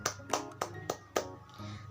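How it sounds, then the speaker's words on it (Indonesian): A handful of separate, sharp hand claps spaced unevenly in a primary-school classroom, sounding like a small group clapping sparsely and briefly rather than sustained applause. "Mari kita beri tepuk tangan."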